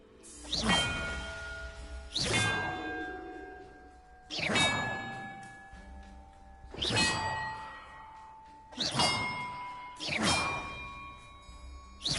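Bells ring in the Hogwarts Legacy video game, sounding as five separate metallic dings spaced about two seconds apart. Each strike rings clear and bright, then decays slowly with long, overlapping overtones, and no voices are heard.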